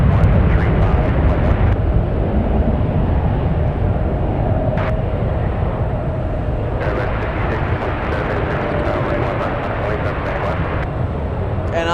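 A Boeing 757 jet airliner taking off from San Francisco bound for Newark, a loud continuous roar of engine thrust holding steady throughout with a few faint sharp clicks over it.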